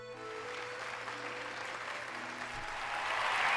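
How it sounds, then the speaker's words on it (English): Crowd cheering in the video game Hollow Knight, a steady wash of applause and roaring that swells louder toward the end, with sustained musical tones underneath. "Hear how the crowd adores you?"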